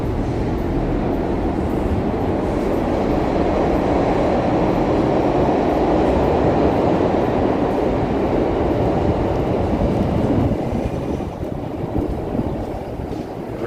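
A New York subway train rumbles through a station platform in Manhattan, a loud steady roar of wheels and cars that holds throughout before easing slightly at the end, no talk.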